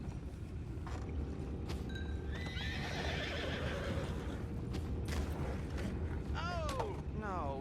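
Horses in a Red Dead Redemption 2 scene whinny and neigh several times, with hooves clip-clopping steadily underneath, over a constant low ambient rumble and creaking.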